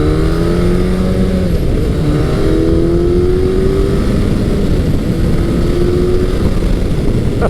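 A 1999–2007 first-generation Suzuki Hayabusa accelerates smoothly at speed, its engine note rising in pitch through the gears with a brief dip at a shift, heard close and steady over constant wind rush.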